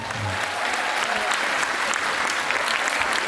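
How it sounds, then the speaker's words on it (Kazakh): A concert audience claps, producing dense, sustained applause that fills the hall evenly and stays loud for the whole stretch before cutting off abruptly. "бір мәрте қол шапалақлар болсын"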